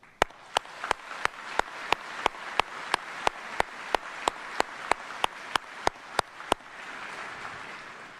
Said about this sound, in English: Please join me in a round of applause in really recognizing these fine,